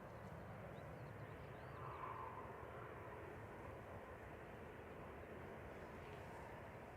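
Ryanair flight 1174 arriving from Porto on landing approach at Manchester Airport, a steady broad jet roar holding at a constant level throughout, heard alone without talk.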